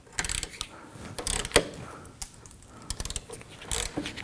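Ratchet working a rust-seized shock mount bolt on a Nissan Murano, penetrant-soaked, producing irregular bursts of close metallic clicking and clatter with brief pauses between strokes.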